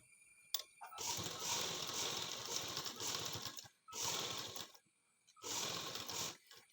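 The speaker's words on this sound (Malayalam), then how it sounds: "പിൻ ചെയ്ത് വെച്ചതിന് ശേഷം സ്റ്റിച്ച് ചെയ്യുക" A sewing machine stitches the neckline of a halter-neck garment in three bursts of fast, steady mechanical clatter. It runs close and loud, with short pauses between the runs.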